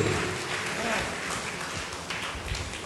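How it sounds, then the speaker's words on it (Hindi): A church congregation at a Sunday service claps together in thanksgiving, a dense, continuous patter of many hands, fairly loud and close, with voices mixed in. "हम तालियां बजा के परमेश्वर को धन्यवाद दे।"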